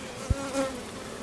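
Bees hum around an open beehive during an inspection, a steady close drone with a single soft bump partway through and no voices.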